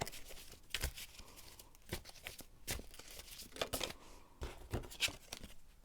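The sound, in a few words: tarot cards being shuffled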